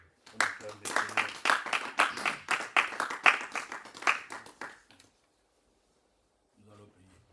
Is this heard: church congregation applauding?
yes